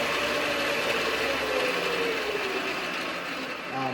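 Tiny lathe running at about 1100 RPM, a steady close whirring and gear whine with a faint ratcheting texture throughout.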